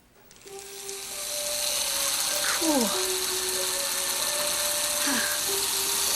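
A two-directional drill runs steadily, reversed to wind a car's speedometer numbers backward, giving a continuous whirring mechanical hum throughout, with brief voices speaking over it.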